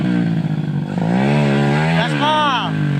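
A motorcycle accelerates hard on the road, with a loud engine note climbing steadily in pitch through the gears. Voices are heard over it toward the end.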